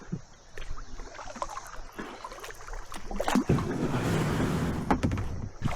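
Kayak moving through shallow water in Ohio's Brush Creek, with paddle splashes and rippling water close by that grow louder and busier toward the end, and no talking.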